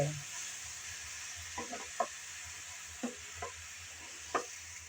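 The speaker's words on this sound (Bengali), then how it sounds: "পরপর সব শাকগুলো দিয়ে দিলাম এখন নেড়ে চেড়ে মিশিয়ে নেব" Radish leaves being stirred and tossed in a pan, a handful of soft scraping knocks spaced irregularly over a steady sizzling hiss, with no voices.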